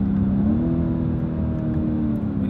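A BMW M850i xDrive with its big engine accelerating to overtake, giving a steady, loud interior engine drone whose pitch rises slightly, with no talk.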